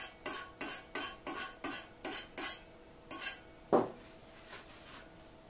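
Rhythmic scratching strokes across an untreated surface, about a dozen quick rasping passes in a steady beat with one louder scrape near the end, fairly faint and close.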